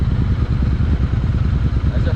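A motorcycle engine, an Interceptor 650 or Continental GT, rumbles steadily and loudly at close range while people talk over it.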